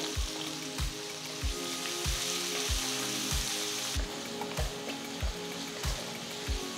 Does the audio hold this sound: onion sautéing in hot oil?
yes